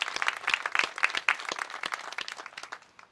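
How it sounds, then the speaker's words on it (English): Applause from an audience, dense overlapping claps that swell early, then gradually thin and fade toward the end; no talking. "can we all give them a round of applause?"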